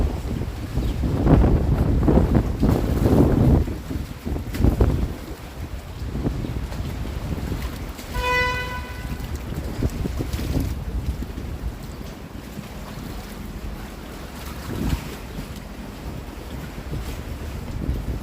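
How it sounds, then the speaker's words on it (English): Strong wind roars and buffets the microphone in heavy gusts outdoors in south downtown Toronto on an April evening, with a brief high whistle partway through and a faint watery background. "Oh man, this wind."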